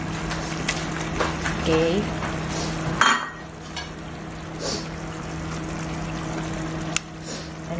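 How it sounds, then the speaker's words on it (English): Spicy sardines fry in a pan with a continuous sizzle, and a thump and clatter mark pumpkin going in. A person talks over the cooking. "now guys, we're gonna put now our pumpkin"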